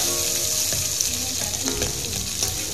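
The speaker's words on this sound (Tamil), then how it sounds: "கடுகு பொரிஞ்சதும் நம்ம எடுத்து வச்சுருக்க பிரிஞ்சி இலை பட்டை லவங்கம் அப்புறம் கொஞ்சம் கருவேப்பிலை இது எல்லாத்தையும் ஆட் பண்ணிக்கலாம்" Mustard seeds, bay leaf, cinnamon, cloves and curry leaves sizzle in hot oil, a dense, close crackling hiss with small pops throughout.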